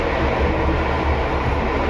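Taksaka express passenger train running fast between Yogyakarta and Jakarta, a steady loud rumble of wheels and carriage noise heard from inside, continuous throughout with no talk.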